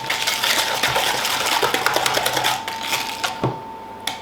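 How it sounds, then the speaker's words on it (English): Pecan pie filling is mixed by hand in a bowl, giving a steady, close wet stirring with quick rhythmic clicks and scrapes of the utensil against the bowl, with no talk. "Just mix that till it's all combined."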